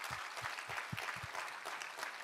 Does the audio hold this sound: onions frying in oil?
no